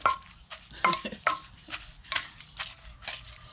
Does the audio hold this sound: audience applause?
no